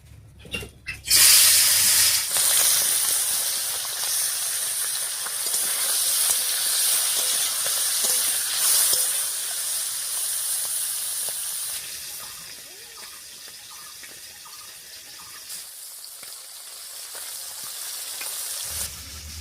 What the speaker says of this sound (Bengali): তেল গরম হয়ে গেছে, এবার মাছগুলো দিয়ে দিচ্ছি।